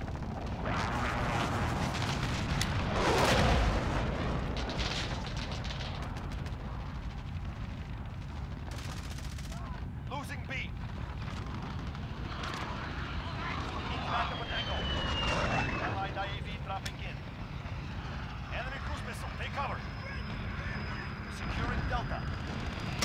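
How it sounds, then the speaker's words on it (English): An enemy precision airstrike in Call of Duty: Modern Warfare brings aircraft roar and heavy explosive booms over a rumbling battlefield, with scattered gunfire and a jet streak sweeping across, while a player talks throughout. "Enemy precision airstrike"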